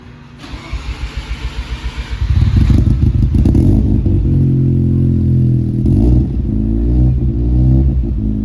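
A Mazda FC RX-7 rotary engine with a custom single-exit exhaust cranks with a rapid pulsing chatter, then catches and settles into a steady, loud, low idle with a slightly uneven burble.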